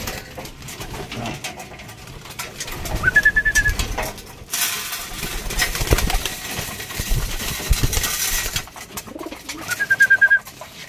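Pigeons in a breeder loft, among them color wings, Integra and golden crack birds, give soft repeated coos with a few louder bursts of rustling and wing movement nearby.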